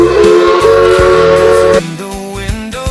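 Christmas train whistle blowing loud and sustained in tonal blasts, shifting pitch partway through, set against rhythmic music-like accompaniment.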